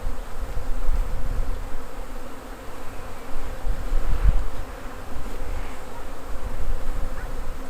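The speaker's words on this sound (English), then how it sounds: "bees have figured out that this is their hive, and so they're more likely to be defensive, because now this is the location of their home" Honeybees from a package being installed into a new hive hum in a steady, continuous buzz, with close insects passing the microphone and no talking.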